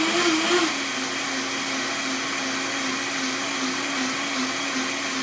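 A countertop blender runs at a medium speed, about 5.5 to 6, blending plant-based mozzarella-style cheese. It makes a steady, loud whirring drone that holds evenly for the whole stretch, with a slight pitch shift at the start and no talk.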